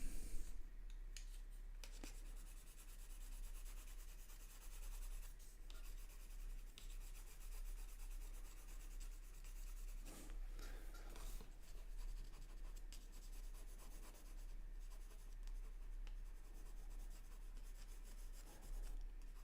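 A coloured pencil rubs and scratches across paper in steady, close strokes, a continuous dry grainy rasp that keeps going with brief pauses and a few sharper scrapes throughout.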